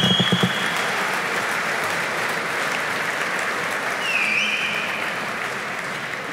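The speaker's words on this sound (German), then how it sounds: "Wenn Sie jetzt schon klatschen" An audience applauds during a speech at a ceremonial address, with dense, sustained clapping that stays steady and loud from start to finish, with no talking over it.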